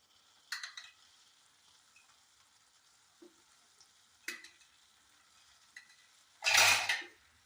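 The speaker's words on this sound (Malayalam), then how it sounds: "അപ്പോൾ നമുക്ക് ഇതിലേക്ക് ഒഴിച്ചു കൊടുക്കുക അരപ്പ് ചേർത്ത് കൊടുക്കുക" Ground coconut paste goes into an okra and tomato curry: a few sparse utensil clinks over near-silence, then a short, loud sizzling burst as the paste hits the pan.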